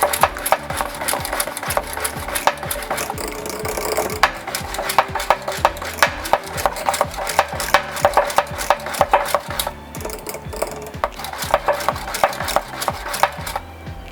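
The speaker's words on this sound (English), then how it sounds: "Now we'll mix it thoroughly." Batter of hung curd and psyllium husk being stirred thoroughly for keto mor kali, a steady run of quick scraping, tapping strokes of a spoon against the vessel, fairly loud and close, with no one speaking.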